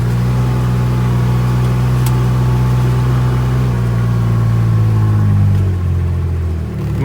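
A 2021 Kubota RTV X1140 utility vehicle engine brakes downhill over rocky terrain: a steady low drone with a whine holds for several seconds, pitch sliding downward as it slows, then fading slightly.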